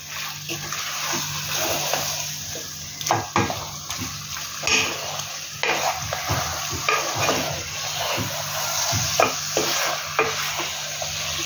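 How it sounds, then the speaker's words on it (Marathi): Kolhapuri masala chicken is turned over in a pan, with wet, sloppy scraping and splattering stirs that come in uneven bursts over a low sizzle. "चांगलं असं फिरून घ्यायचं, मसाला सगळा चिकनला लागला पाहिजे।"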